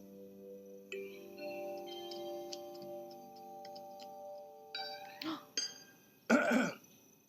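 A reader's voice imitates a cricket's cough, with a few short, sharp throat-clearing coughs near the end following a quiet tonal stretch.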